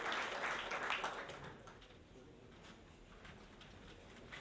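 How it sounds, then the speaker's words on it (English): Audience applause at a corporate evening event, a faint, diffuse patter of clapping that is fuller at first and then thins out to a quieter spread of scattered claps. "May I request you to give a huge round of applause to Mr. Valentine."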